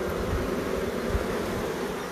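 Bees buzzing densely around a wall cut-out hive, drones among them, a steady close swarm drone with no gaps and no talk.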